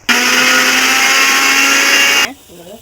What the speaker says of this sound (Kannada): ರುಬ್ಕೊಂಡ್ಬಿಡೋಣ, ನೀಟಾಗಿ ನುಣ್ಣಗೆ ರುಬ್ಕೊಬಿಡೋಣ